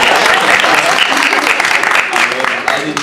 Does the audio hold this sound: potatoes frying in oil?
no